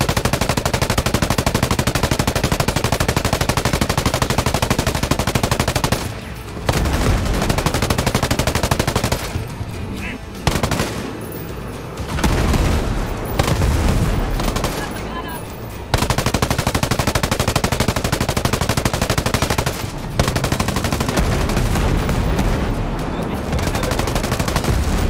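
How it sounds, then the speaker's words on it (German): Sustained machine gun fire in Ghost Recon Breakpoint rattles loud and near for long stretches. Several brief pauses interrupt it before the shooting resumes, and there is no speech. "Deshalb müssen wir den Rest mit dem MG erledigen."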